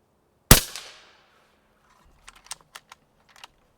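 Umarex Gauntlet SL30 air rifle firing a Griffin 64 pellet at a target, one sharp close crack with a short decaying tail, followed by several faint light clicks.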